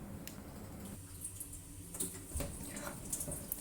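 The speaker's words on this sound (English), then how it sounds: "Place it under running water for 20 seconds or until the jelly drops on the chopping board by itself." Running tap water pours over an upturned Osmanthus jelly mold on a plastic chopping board, a quiet, continuous splashing stream with small knocks and drips.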